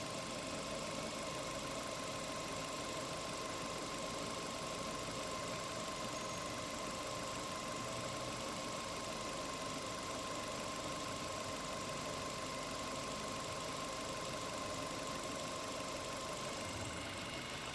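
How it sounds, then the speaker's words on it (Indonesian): A Suzuki Jimny engine idles steadily at close range, a continuous even hum with a faint knocking texture and a constant tone, unchanged throughout, with no talking. "sekarang saya akan menyalakan mesin"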